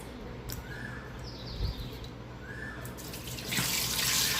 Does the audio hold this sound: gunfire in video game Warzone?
no